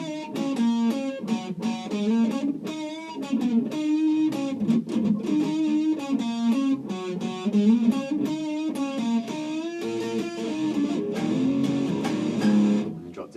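A Squier Classic Vibe electric guitar played with a warm, rolled-off tone, a run of clear picked notes and chords with slight distortion, close and alone.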